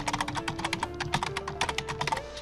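Rapid, steady keystrokes on a computer keyboard as a web link address is entered, close and clear with no talking.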